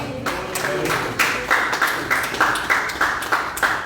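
Congregation at an Assembleia de Deus service in Marília clapping in church, a fairly loud run of rhythmic, evenly spaced claps after a sermon, with faint voices underneath.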